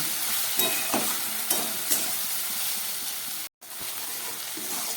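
Okra sautéing in a pan with salt and turmeric, a continuous close sizzle with a few soft stirring knocks and a brief dropout partway through.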